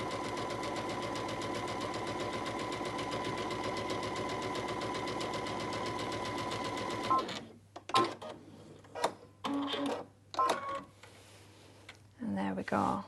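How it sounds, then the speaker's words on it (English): A Brother sewing machine fitted with a dual feed foot stitches at high speed in a fast, even mechanical rattle for about seven seconds, then stops, leaving faint handling noises and clicks. "I'll speed it up as well so you can see that it copes with it at a higher speed as well."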